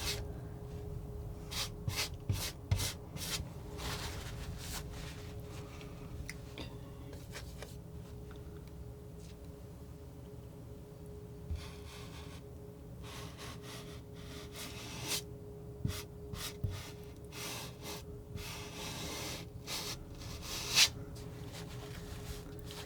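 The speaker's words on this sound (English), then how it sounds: "Scrubbing in this paint." A palette knife scrubs paint onto a canvas in soft, close, irregular scraping and rubbing strokes, quiet and steady with occasional sharper taps.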